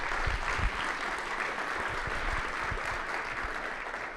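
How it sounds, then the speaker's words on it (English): An audience at an academic conference keynote applauds the organizers with steady, dense clapping that fills the hall evenly from start to finish. "how about a round of applause for those guys?"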